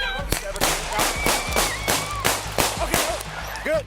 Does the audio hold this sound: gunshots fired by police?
yes